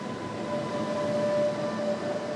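Steady rumble of a Santo Domingo metro train in motion, with a sustained tonal whine running through the continuous rail noise and no talk over it.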